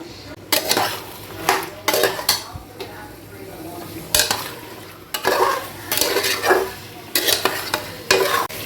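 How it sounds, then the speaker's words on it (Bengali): Mutton cooked with ground spice paste in a pot is stirred and fried for bhuna, with repeated loud scraping spoon strokes against the metal over a constant low sizzle. "আমি এই মাংসটার মধ্যে এটা দিয়ে দেবো দিয়ে এটাকে ভালো করে কষাবো"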